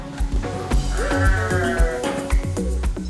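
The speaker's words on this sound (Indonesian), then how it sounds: "Siapa tak kenal hewan berkaki 4 ini? Domba Garut." Garut sheep in West Java bleating up close, several loud wavering bleats overlapping in quick succession with short gaps between them.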